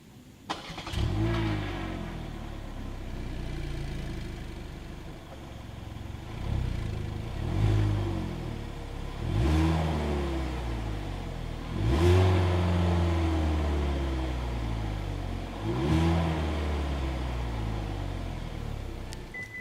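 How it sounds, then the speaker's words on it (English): A 2022 Hyundai Elantra compact car idles, then its engine is revved five or six times, each rev swelling and falling back to a low steady rumble, close to the exhaust, with no talking. "As always, here is that exhaust clip."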